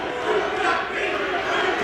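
A wrestling crowd at a women's extreme wrestling event cheers and yells in a steady, loud roar of many voices that swells slightly and holds throughout, with no single voice standing out.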